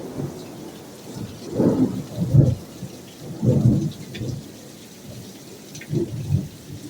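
Thunder rumbling during a heavy rainstorm, with several deep, loud rolling booms swelling and fading over a steady hiss of rain falling on surfaces.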